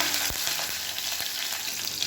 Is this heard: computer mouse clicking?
no